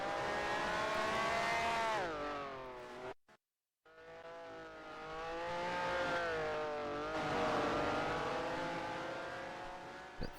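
Race car engines screaming in a sim racing game, a Ferrari among them near Monza's Lesmo corners: layered high-revving tones rising and falling as cars accelerate, cut by a short silent gap, then resuming loud and sustained.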